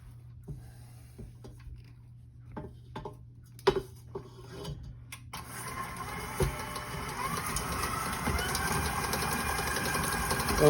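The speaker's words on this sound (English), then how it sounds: "Make sure that the mixer gets all of it." A stand mixer churns cookie dough for chocolate chip cookies, starting with scattered knocks and scrapes before settling into a steady, close mechanical whir that runs without pause to the end.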